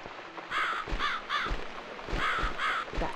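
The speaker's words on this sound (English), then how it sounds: "It's this damn bird again." Within The Cat Lady horror adventure game, a crow caws in a run of harsh, rasping calls, mostly paired, loud and near against a quiet background.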